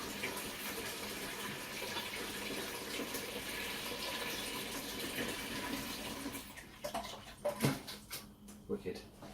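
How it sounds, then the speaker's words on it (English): A saucepan fills from a tap with a steady rushing of water for about six seconds, then the flow breaks into splashes and sloshes, while a person talks over it nearby. "grab a saucepan, fill it up"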